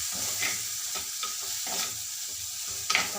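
Tomatoes and green chili sautéing in a pan for rasam, a steady close sizzle with irregular spoon scrapes and light clinks, no voices.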